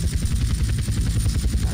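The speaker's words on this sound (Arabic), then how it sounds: "الآن سأذهب لكي أهبط الطائرة هناك" An airplane engine drones steadily with a pulsing propeller beat while coming in to land at the flight school in GTA San Andreas. The sound is loud and continuous throughout.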